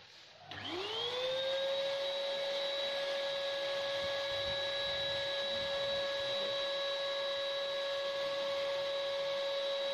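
An air compressor for a paint spray gun starts up, quickly rising into a loud, steady whine with a constant tonal drone and hum that holds unbroken for about nine seconds, nearby with no talking.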